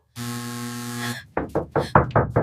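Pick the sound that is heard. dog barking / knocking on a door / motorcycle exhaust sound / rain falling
knocking on a door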